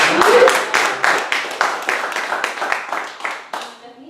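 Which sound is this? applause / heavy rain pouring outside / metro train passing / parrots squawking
applause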